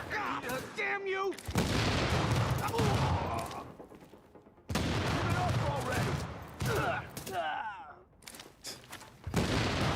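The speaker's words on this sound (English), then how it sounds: "Explosion sounds." Bursts of explosions and gunfire from a video game, heavy booming blasts in several long bouts separated by short gaps, with a voice talking between them.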